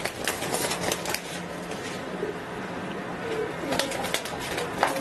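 Fancy pigeons cooing at a pigeon market: soft, low coos repeat nearby among bursts of wing flapping and shuffling, while people talk in the background.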